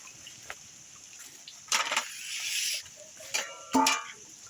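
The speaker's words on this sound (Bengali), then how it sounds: "প্রথমে আমি কাঁকরোলগুলো কেটে নেব।" A knife slicing teasel gourd (kakrol) into thin strips: several crisp, close cutting strokes come in short, irregular bursts, with quiet pauses between them.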